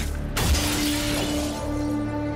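A stained glass window shatters in Marvel's Spider-Man 2, a video game: a sudden loud crash of breaking glass, followed by a sustained bright, tinkling wash of falling shards over a steady in-game hum, without talk.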